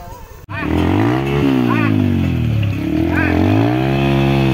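A Honda CRF motorcycle engine revs up close and loud, its pitch rising and falling through several throttle blips over a steady idle.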